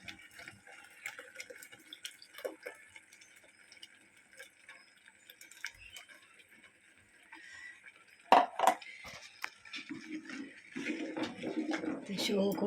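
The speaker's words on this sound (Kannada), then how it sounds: "ಮತ್ತು ಪುಳಿತ ನೀರು ಪಾಡೊಂದುಲ್ಲೆ" Tamarind water is poured into a pot while cooking spicy bangude (mackerel) pulimunchi: quiet kitchen ticks, then a sudden splash and a continuing gurgling pour toward the end, faint and close.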